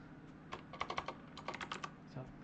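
Quick, fairly faint keystrokes and clicks on a computer keyboard during a Hangul word-processor exam exercise, tapping in irregular bursts with short pauses between runs.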